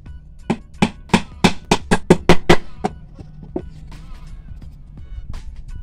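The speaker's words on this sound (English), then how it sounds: "with your hammer you drive your 2-inch nail into it" Hammer driving a 2-inch nail into wood while building a rabbit nesting box: a run of about nine sharp, loud, close strikes in quick accelerating succession, then a few softer taps and faint handling noise.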